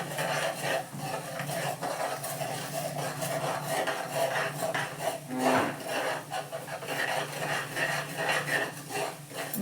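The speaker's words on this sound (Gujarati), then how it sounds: "આપણે એને ધીમા તાપે શેકી લઈએ" Semolina roasting over a low flame is stirred steadily in a pan, producing a continuous scraping, rubbing rattle at close range with occasional clinks of the utensil against the pan.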